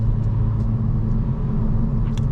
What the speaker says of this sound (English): The tires are just a little bit noisy.